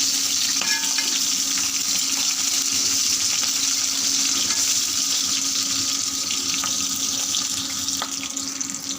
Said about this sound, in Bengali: আমার মাছ ভাজি